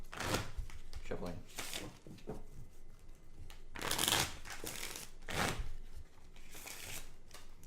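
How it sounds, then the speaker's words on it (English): A deck of playing cards is shuffled in repeated riffling bursts for a tabletop board game, fairly quiet, with a person talking over and between the shuffles. "let's shuffle up our cards"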